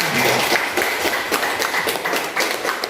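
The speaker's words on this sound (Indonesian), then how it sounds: "kita kasih aplaus untuk kelompok pelangi" A room of teachers at a maths teacher training session claps for a group, a fairly steady patter of hands lasting a few seconds with no voices over it.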